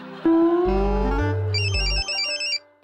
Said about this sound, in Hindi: फोन आया भाई